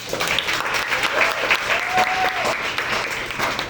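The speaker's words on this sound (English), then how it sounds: "giving a round of applause for Trishana" Audience applause for Trishana at a public speaking event in Miami, a steady dense wash of clapping filling the whole stretch, with a voice briefly audible over it.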